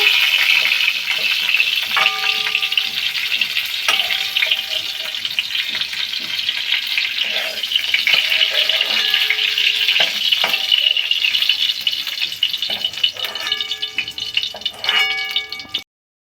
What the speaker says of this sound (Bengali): ফোড়ন দিয়ে দিলাম চারটে এলাচ তিনটে লবঙ্গ দুটুকরো দারচিনি